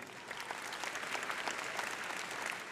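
Sustained audience applause fills a high school graduation ceremony, a dense, even wash of many hands clapping throughout.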